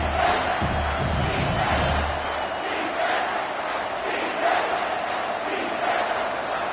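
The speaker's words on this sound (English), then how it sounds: "the crowd coming to life here" A football stadium crowd roars and cheers steadily as the defense digs in near the red zone, a broad, continuous wash of many voices with a low rumble early on.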